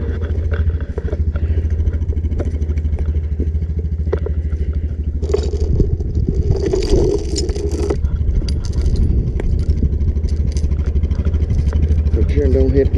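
Metal chain links clink and rattle in short bursts close by on a farm, over a steady low engine rumble outdoors.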